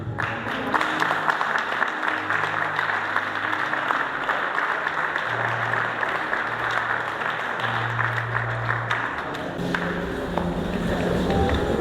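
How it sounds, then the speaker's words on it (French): An audience at a church wedding-themed gathering claps steadily for two couples, a dense, sustained applause filling the room throughout with little change in level. "est-ce qu'on peut acclamer pour ces deux couples-là?"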